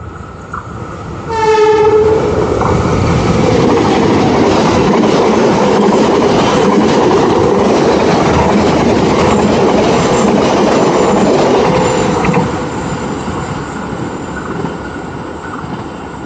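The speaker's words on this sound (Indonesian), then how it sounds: "Kebetulan banget ada kereta yang akan melintas lewat sini" A train passes close by, opening with a sharp, loud horn blast and then a long, heavy, steady rumble of rolling wheels and cars that fades slightly near the end.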